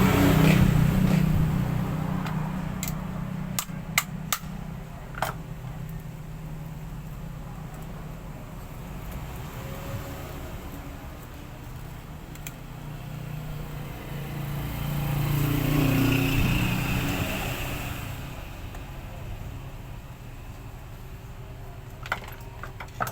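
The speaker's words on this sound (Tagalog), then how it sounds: "testingin natin ngayon itong motor" An electric fan motor that will not spin, suspected of a shorted winding, runs on test with its capacitor line cut, giving a steady low mechanical hum with a few sharp clicks and a brief swell midway.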